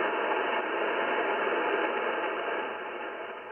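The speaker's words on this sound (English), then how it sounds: "Looks like there's a lot of noise on the net today." Radio noise on a ham net received through a Yaesu FT-710 transceiver: a continuous hiss of static with faint garbled signal underneath, steady and fairly quiet, easing slightly toward the end.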